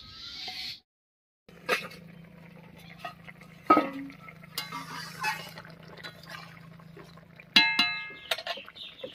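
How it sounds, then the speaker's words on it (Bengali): Metal pot lid lifted off a simmering pot of pabda fish curry with taro, then the pot taken off the heat: sharp metallic clinks and clanks over a faint steady hum, with a few scattered knocks. "এবারে ঢাকা খুলে নামিয়ে নিচ্ছি।"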